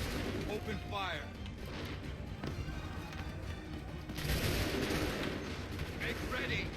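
Musket volleys ring out in an Assassin's Creed 3 battle, dense repeated bursts of gunfire layered over a constant din of combat, with shouted commands heard throughout and a louder blast of firing near the end.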